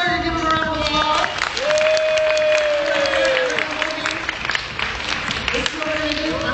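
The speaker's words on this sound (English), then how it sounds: "Give them a round of applause." An audience at a high-voltage Tesla coil science show breaks into sustained applause and cheering, a steady wash of clapping with a voice speaking over it.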